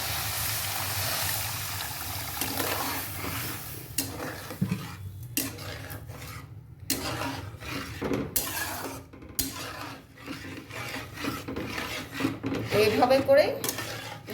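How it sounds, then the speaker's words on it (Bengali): Water poured into heated semolina in a pan and stirred, a brief splash followed by wet scraping and rubbing of a spoon against the pan, close and fairly quiet with some clinks. "এখন জল দিয়ে দেব।"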